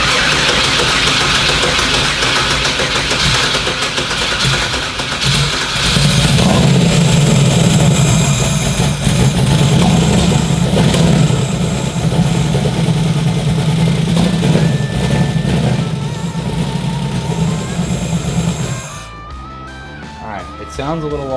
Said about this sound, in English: You can just hit the starter and see if it fires up.